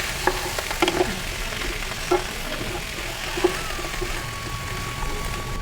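Plantain, brinjal and yam pieces are stirred in a sizzling pan for a mixed-vegetable kuzhambu, with steady close frying hiss and occasional scraping clinks of the spoon against the pan.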